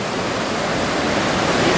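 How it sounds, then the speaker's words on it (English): White water rushes continuously on the Yuba River, a loud, dense, unbroken roar of churning water heard from nearby with no voices over it. "You can see the white water right there."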